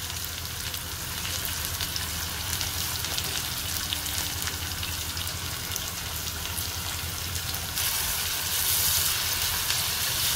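Fenugreek curry ingredients sautéing in a pan with salt added: a steady, close sizzle and crackle of frying that continues throughout and grows slightly louder toward the end.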